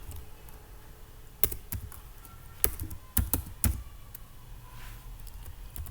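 Java code typed on a computer keyboard: a sparse run of separate key clicks and a few louder keystrokes, heard close in a quiet room.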